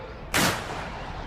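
A single gunshot sound effect played during a tabletop role-playing game session: one sudden, sharp blast that quickly settles into a long, noisy rumbling tail over a steady background hiss.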